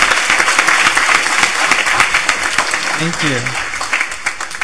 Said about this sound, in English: I want to ask for one more round of applause for the students of the CRS program